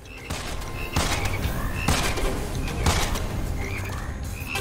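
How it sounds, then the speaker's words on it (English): Frogs croak in the video game Immortal Redneck, loud rapid bursts layered over game noise and a few sharp thumping impacts, with no talk. "Oh no, frogs!"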